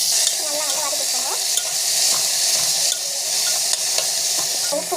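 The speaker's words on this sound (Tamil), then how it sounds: "அவரைக்காய் ஆட் பண்ணிட்டு ஜஸ்ட் வந்து வதக்கிட்டாங்க" Broad beans sautéing in a hot pan give a loud, continuous sizzle, with a spatula stirring and scraping at intervals throughout.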